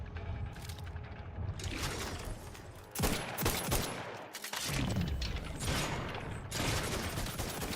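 Gunfire in The Outer Worlds 2, a dense, sustained crackling barrage of shots running throughout with a brief dip near the middle, loud and continuous.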